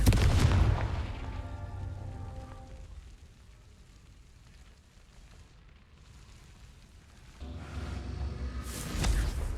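Explosions from the Confringo spell in the video game Hogwarts Legacy: a loud booming blast at the start fading into a low rumbling tail, then another heavy burst near the end.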